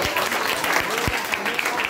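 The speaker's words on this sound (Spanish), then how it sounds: "¡Fuerte aplauso para él!" Audience applause at a magic show, a steady dense patter of many hands clapping throughout with a few sharper claps standing out, fairly close and even in level, with a faint voice underneath.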